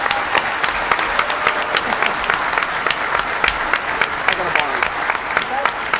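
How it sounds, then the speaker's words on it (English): A large crowd at the DEFCON 17 hacker conference closing ceremony applauds the competing teams, a dense, sustained roar of clapping with sharp individual claps standing out throughout. "I'm going to, A, ask everybody to clap because these guys busted their ass."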